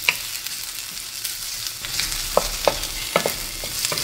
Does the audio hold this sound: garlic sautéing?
yes